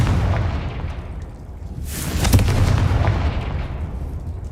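A Confringo fire spell explodes in Hogwarts Legacy, a loud booming blast with a sharp burst and rumbling tail over constant game ambience.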